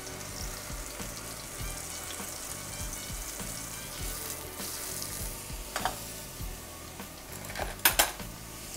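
Lamb chops searing in hot olive oil in a pan, a steady close sizzle and crackle throughout with a few clinks and scrapes of utensils toward the end.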